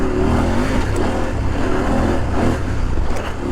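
A CFMOTO 800MT-X motorcycle engine drones steadily in second gear while cruising on a flowy off-road trail, with a continuous loud rumble and wind noise and no real change in revs.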